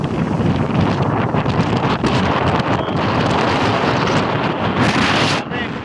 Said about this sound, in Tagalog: Oh, lalaki ng alon.